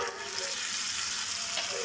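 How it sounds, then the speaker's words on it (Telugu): Egg fried rice sizzles steadily in a hot pan as soy sauce goes in, a dense, even hiss that stays constant throughout. "రైస్ వేసుకొని ఇప్పుడు 1 టేబుల్ స్పూన్ సోయా సాస్ వేసుకుంటున్నానండి"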